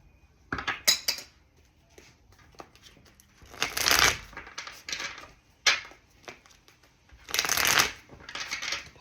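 A deck of tarot cards being shuffled close by, with several riffling bursts that swell and fade separated by softer handling clicks and rustles, and no speech.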